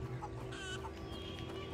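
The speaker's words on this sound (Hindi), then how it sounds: "अरे मुर्गी पक पक पक पक पक पक पक पक पक।" In the game A Plague Tale: Innocence, a chicken in a village clucks a few short, soft notes, fairly faint over a steady low background drone.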